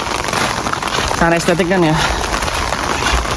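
Steady rain falls in the town of Yufuin, Japan, during the rainy season, a soft continuous wash beneath a person talking briefly in the middle.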